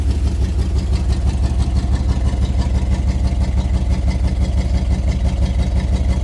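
The engine of a 1994 Chevy Blazer K5 with a blown head gasket runs steadily, a loud, close, rhythmic low chugging idle with a rough pulsing beat and no voices.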